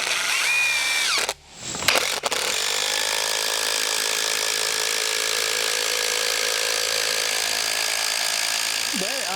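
A battery-powered DeWALT cordless power tool on a farm runs with a loud, close, steady whir, cutting out briefly near the start before spinning back up and running continuously to the end.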